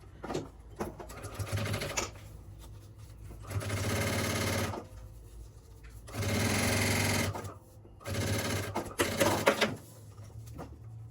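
A sewing machine stitches the finishing seam on a fabric toiletry bag, running in three or four steady bursts of a few seconds each, separated by short pauses and small handling noises, close and fairly quiet.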